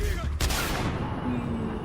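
Gunfire in the Singularity video game on Xbox 360, a loud close blast followed by a booming decay and lingering game effects, with a voice faintly present.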